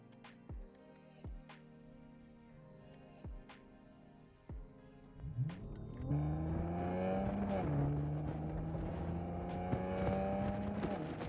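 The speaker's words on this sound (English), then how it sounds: "Let's take the car for a drive." BMW M4 F82 heavily modified with carbon parts pulling away and accelerating hard, engine note rising loud and close after a few sharp knocks, holding a sustained roar through gear changes.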